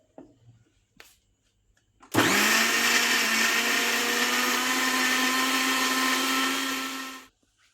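A kitchen mixer grinder whirs loudly for about five seconds, grinding a coriander paste with water, after a few faint clicks and knocks, then winds down to silence.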